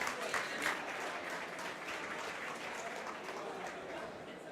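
A conference audience at a startup tech event applauds steadily. The clapping is dense, even and fairly distant, with faint voices mixed in.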